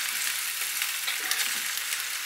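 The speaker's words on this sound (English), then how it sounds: "And you want to just stir to make sure that everything gets coated in that delicious oil" Pork and vegetables stir frying in oil in a pan, a steady close hiss and sizzle with faint scraping as the food is stirred, continuous and unbroken, with no voices.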